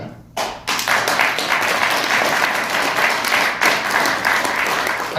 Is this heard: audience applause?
yes